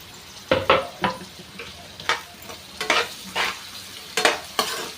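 Four onions dropped into hot oil with mustard seeds and urad dal, sizzling steadily while a spoon stirs and scrapes the pan in repeated bursts, close and loud, with no voices.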